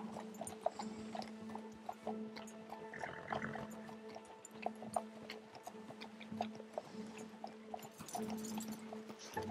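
Horse hooves clip-clop at a steady walking pace in the Western game Red Dead Redemption 2, faint and ticking under a soft ambient background hum.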